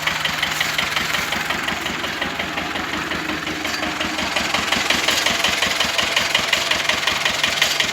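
A homemade tractor's engine chugs steadily and loudly up close with a rapid knocking rhythm as it drives, continuous with no talk.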